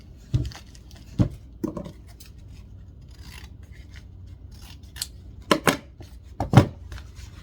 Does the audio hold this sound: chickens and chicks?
no